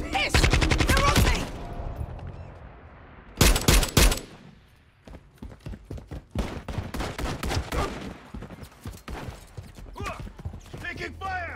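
Modern Warfare 3 gameplay brings loud bursts of automatic gunfire at the start and near four seconds, then scattered sharper shots, with voices shouting in between.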